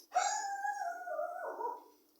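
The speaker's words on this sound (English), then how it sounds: "my dog is barking." A pet dog gives a single drawn-out, wavering howl-like cry lasting about two seconds, close by in a quiet indoor room where a trouser jumpsuit is being sewn.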